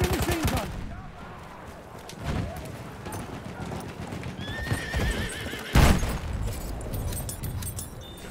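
Horses whinnying and clip-clopping in the Battlefield 1 video game, a loud neigh up front and another later, mixed with gunfire and machine-gun bursts in the background.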